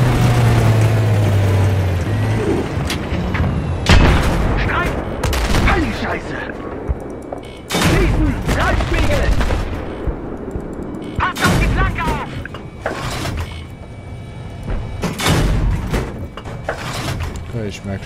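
Tank gunfire in the video game Battlefield 3: repeated loud blasts and crashing bursts amid engine rumble and battle noise, with someone talking over much of it.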